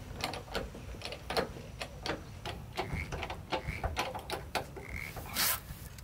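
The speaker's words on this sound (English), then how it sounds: "let's get this bottle jack in position and we'll lift up this side of the camper." A bottle jack lifts one side of a pop-up camper during a flat tire change, giving irregular sharp clicks and ratcheting taps with occasional short metallic creaks, steady and close with no talking.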